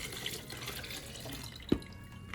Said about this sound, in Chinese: 就是水龙头接水就好了